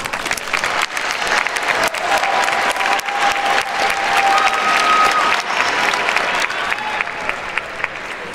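Audience at a graduation diploma ceremony for Heinz College of Information Systems and Public Policy bursts into sustained, even applause, a dense wash of many hands clapping that holds steady for several seconds with faint cheers.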